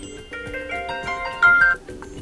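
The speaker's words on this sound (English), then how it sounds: "Here we can adjust alarm ringtone." Vivo V20 SE phone alarm ringtone, a quiet, bright electronic melody of short repeated tones in a quick rhythm that play alone from the handset's speaker.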